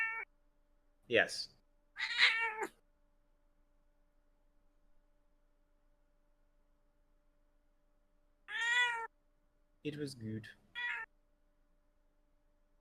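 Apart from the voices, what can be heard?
cat meowing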